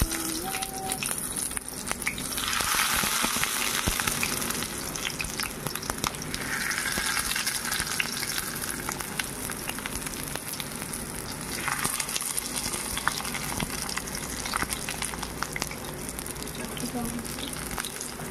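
Shidol leaf fritters (bora) fry in hot oil, giving a steady, dense sizzle and crackle that runs unbroken throughout with occasional bubbling surges, close and moderately loud.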